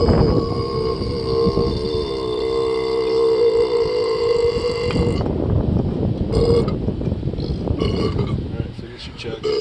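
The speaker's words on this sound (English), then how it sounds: "You're not even ready for the burp I'm gonna do." A long, loud, droning burp follows a chug of cream soda. It is close up and lasts several seconds, then gives way to rustling and background noise.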